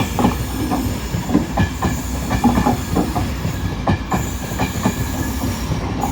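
A train rolls past close by at Doncaster station on the East Coast Main Line, with rhythmic clickety-clack of wheels over rail joints, a steady rumble and brief hissing, loud throughout.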